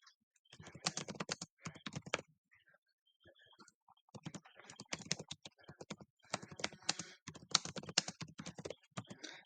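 Someone types on a computer keyboard while writing R code, with rapid, close keystrokes in dense bursts. A short pause comes near the start, and a longer pause falls around the fourth second before the typing resumes.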